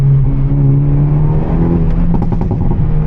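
A Hyundai i30N held in second gear, its engine droning loud and steady with a low growling tone, then a quick burst of crackling exhaust pops near the end.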